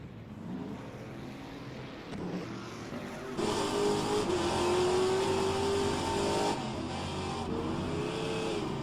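A race car engine roars on the final lap of a racing game, revving and rising in pitch as it accelerates, steady and loud with gear changes and a sustained high whine midway.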